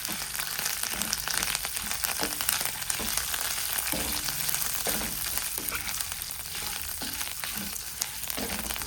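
Garlic, curry leaves and dried chillies roasting in a pan for South Indian sambar, a dense continuous sizzle with occasional stirring scrapes, close and steady with no talk.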